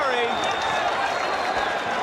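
A boxing crowd cheers and applauds during the Evander Holyfield vs Dwight Muhammad Qawi rematch in December 1987. The arena noise is a loud, steady wash of applause and roar, with a commentator talking over it.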